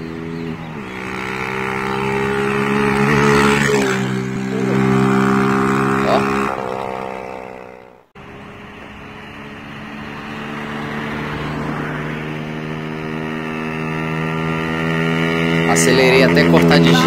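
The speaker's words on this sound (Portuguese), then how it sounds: "Nesse dia eu acelerei essa moto." A Honda CG Titan 150 motorcycle engine revs hard and steadily for a long stretch, its pitch climbing and falling, with a brief cut at the rev limiter partway before it roars again.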